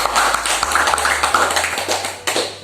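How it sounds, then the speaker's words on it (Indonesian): An audience claps hands at a community learning center gathering, a scattered, uneven patter of individual claps rising and falling, fairly close, with no speech over it. "Kasih tangan tepuk tangan semua."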